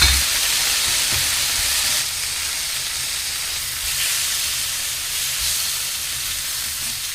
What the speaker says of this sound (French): je vais donc mettre les poivrons dans la poêle et je vais les faire revenir